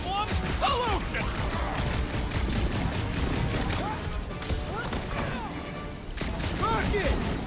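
Rapid bursts of gunfire from a Guardians of the Galaxy video game, layered with crashes and impacts. The shots run loud and dense throughout, with character voices talking over the combat.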